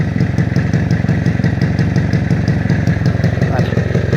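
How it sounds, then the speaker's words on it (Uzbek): A motorcycle engine runs loud and close with a steady, rapid pulsing rumble, held at a fast idle throughout. "Hozir gaz berib ko'raman. Motorlarni eshitib ko'rasiz."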